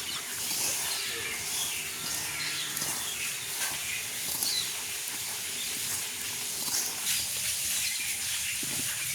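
A pot boils on a village stove while puttu steams, giving a steady, loud hiss of escaping steam that runs unbroken throughout with slight flutter and no voices.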